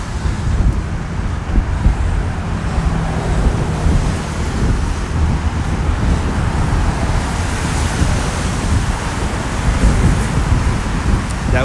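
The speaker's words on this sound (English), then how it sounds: "That wind is beginning to pick up." Strong wind blows steadily on a bridge, roaring into the microphone as continuous loud buffeting, with a constant rush of road traffic noise mixed underneath.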